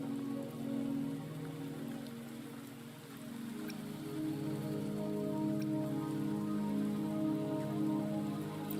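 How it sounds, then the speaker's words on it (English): Steady rain falling in the Wuthering Waves video game, a dense, even patter that holds at a constant level for the whole stretch with no voices over it. "Don't worry, the rain won't last much longer."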